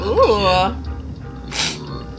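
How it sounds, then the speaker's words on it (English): A single sharp sneeze bursts out near the microphone, followed by a brief quieter exhale and rustle. "So I'm sorry if I keep sneezing during my reactions today."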